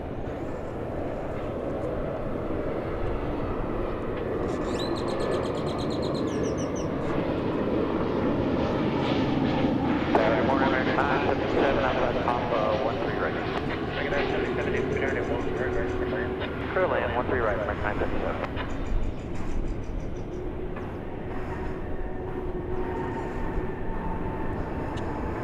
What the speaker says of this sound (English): Here comes American Flight 831 from Monterrey, Mexico. It's a 737, no, it's an Airbus A319.